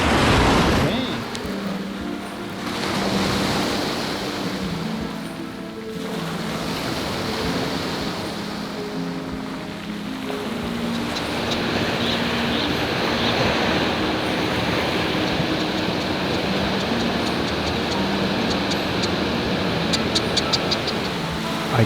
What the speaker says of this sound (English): how many different waves were crashing at the same time